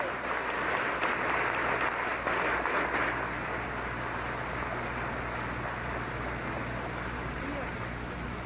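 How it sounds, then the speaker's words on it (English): Applause from an audience at a parasport games opening ceremony honoring auxiliary officers, a steady wash of clapping that begins fuller and settles into a continuous even patter throughout. "A hand of applause for our auxiliary officers."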